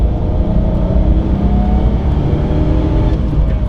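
A 2005 Ford GT's engine pulls hard under steady acceleration on a twisty road, a loud, continuous, even roar heard from inside the car with no talking.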